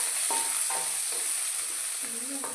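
Onions and cumin sautéing in hot oil in a kadai give a steady, close sizzle, with a few soft stirring scrapes spread through the short stretch and no talking.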